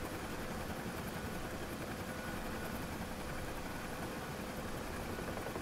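A UH-1H Huey helicopter engine in DCS World drones steadily, a dense continuous rotor and turbine roar with no breaks and no talk over it.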